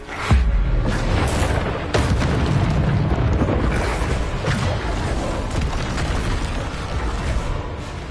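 Bombarder spell blasts in Hogwarts Legacy boom and rumble in rapid succession, heavy explosions overlapping into a dense, loud roar that rolls on for several seconds.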